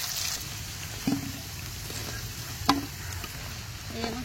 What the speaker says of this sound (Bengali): আমার তেল গরম হয়ে গেছে, আমি এক এক করে সবজি ভেজে নেবো। প্রথমে আমি কলাটা ভেজে নেবো